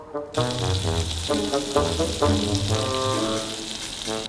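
Butter melting and sizzling in a frying pan for a Turkish baked egg dish, a steady close hiss with crackles running throughout, no voices.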